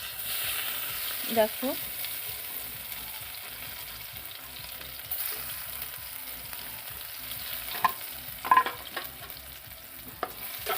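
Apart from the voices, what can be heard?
frying crushed garlic in hot oil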